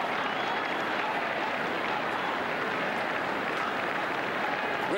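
A huge crowd in St. Peter's Square cheers and claps without pause, a thick, even roar of applause heard from the middle of the throng, with scattered shouts.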